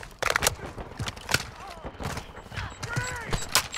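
Call of Duty Modern Warfare 2 team deathmatch on the Farm 18 map: bursts of rapid gunfire and shots crackle throughout, mixed with in-game voice callouts and other battle noise.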